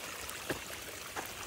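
Hot spring water pours steadily out of its source into a desert garden oasis, a continuous close hiss of running water with faint splashes and no talking.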